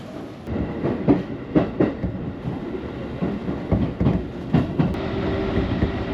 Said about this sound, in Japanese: 右手に停車中の甲府行きの普通電車に乗車したいと思います